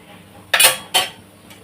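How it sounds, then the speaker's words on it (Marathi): A metal spatula flips a drumstick-leaf thalipeeth in a hot pan, making two quick, close scraping clanks about a third of a second apart, then quiet. "भाजून घ्यायचं आहे थालीपीठ परत एकदा पलटी करूया आपण"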